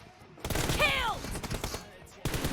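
Bursts of automatic gunfire crackle in a PUBG match, with a quick run of rapid shots and a ringing whistle, while players talk excitedly over the game sound.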